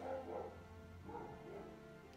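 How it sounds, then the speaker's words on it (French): A neighbour's dog barks faintly in the distance during a quiet Christmas morning indoors, a few muffled barks spread across a low, steady background. "Vous entendez le chien du voisin?"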